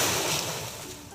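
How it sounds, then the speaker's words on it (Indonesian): Ocean waves wash onto a beach in a broad, steady surging hiss that slowly fades, moderately loud with no voices. "Itu adalah suara ombak."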